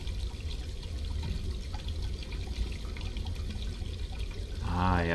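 Scalding hot water runs from a tap in the video game Black Mirror II, a steady rushing flow that continues throughout and swells slightly louder at the end.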